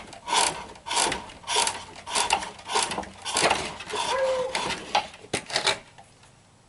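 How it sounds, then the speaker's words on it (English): A skew chisel cuts wood spinning on a springpole lathe, giving rhythmic rasping, scraping strokes that rise and fall with each pull of the treadle, close and fairly loud, fading to quiet at the end. "I can take this skew chisel, it's at a nice angle, and I can come in"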